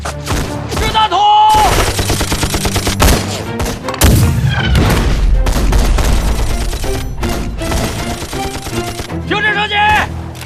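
Dense gunfire in a war film battle scene, rapid bursts of rifle and machine-gun shots layered with heavy booms and impacts, loud and sustained across the whole stretch.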